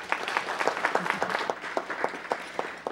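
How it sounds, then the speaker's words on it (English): A small audience at a council meeting gives a round of applause, with moderate, evenly spaced clapping from a few people in a quiet room. "Everyone, please give a round of applause again."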